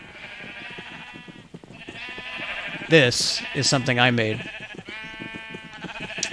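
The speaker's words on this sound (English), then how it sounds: "I bred sheep in a tiny pen and I colored them different colors so that I could shear them and have carpets" Several sheep in a video game bleat loudly from a small pen, with wavering cries bunched together midway, while a person talks over the game both before and after the cries.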